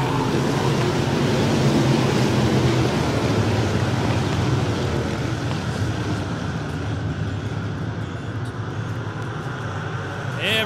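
A field of super stock race cars roars away at the start of a night A-main race, a dense, loud wash of engine noise that thins slightly over ten seconds, with an announcer talking over it.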